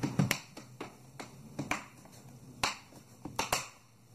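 Plastic bottom cover of an Acer Nitro 5 laptop unclipping, a series of sharp close snaps and cracks spaced irregularly, some louder than others, in a quiet room.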